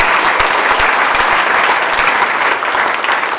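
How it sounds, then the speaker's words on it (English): Steady applause from a conference audience for the panelists of a talk on the sharing economy, dense and even clapping with no pauses, heard alone without any speech. "And just finally, a huge round of applause"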